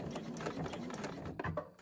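Sewing machine stitching in reverse back across a crossbody bag strap, a steady close buzzing run of rapid needle strokes that slows and stutters near the end.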